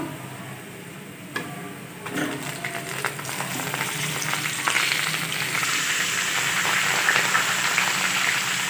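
A kilo of beef frying with golden onions for karahi gosht, with a few spoon knocks at first, then a loud, steady sizzle that builds and holds.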